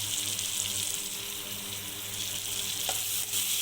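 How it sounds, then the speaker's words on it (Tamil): Fried eggs sizzle in a masala in a pan for an egg roast, making a continuous soft hiss with a faint crackle and one small clink near the end. "நம்ம பொரித்து வச்சுக்கிற எக்கை வந்து உள்ளே போட்டு ஃப்ரை பண்ணி"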